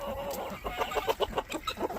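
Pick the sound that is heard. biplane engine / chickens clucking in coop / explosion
chickens clucking in coop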